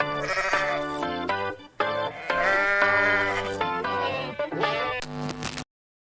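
Goat bleating sound effect with distorted, wavering bleats repeating one after another, loud and close, ending abruptly in silence.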